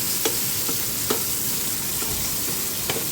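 Onions fry in a pan with a steady, close sizzle, broken by a few sharp clicks of a utensil stirring against the pan.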